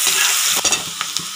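Vegetables fry in hot refined oil with bay leaf, cinnamon, cloves, ginger-garlic and onion for Kashmiri pulao, a loud close sizzle broken by several quick scraping stirs of a spoon.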